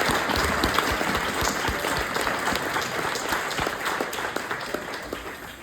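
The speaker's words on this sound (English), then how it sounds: "Let's give a big round of applause." An audience applauds after a community music session, giving dense, sustained clapping at a steady moderate loudness that tapers slightly near the end.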